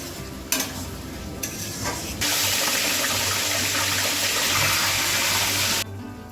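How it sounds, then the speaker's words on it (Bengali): Cauliflower spice masala frying in a pan while being stirred, a few scraping strokes at first and then a loud, steady hiss of sizzling that runs for several seconds before easing, with no talking. "ফুলকপির মশলাটা কষিয়ে নিচ্ছি"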